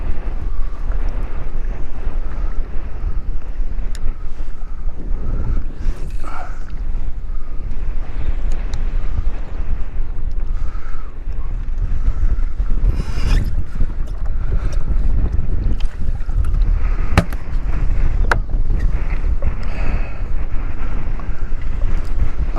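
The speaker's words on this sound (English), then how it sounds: "That wind's pushing him pretty good too." Strong wind buffets a fishing boat on open water off Port O'Connor, producing a loud, continuous roaring rumble with gusty swells throughout and no talking.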